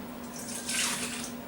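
A bubbly yeast mixture is poured into a mixing pan for bagel dough, a soft close liquid splash and gurgle that swells in the middle and then tapers.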